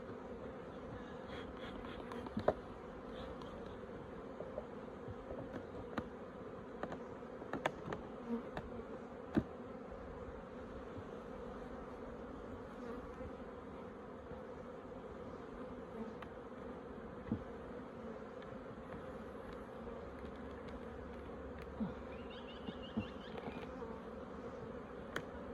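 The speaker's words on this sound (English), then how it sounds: "It's got all those bees down in there nice and tight now." A dense, steady hum of many honey bees buzzing close by as a hive is packed down, with occasional faint clicks and knocks.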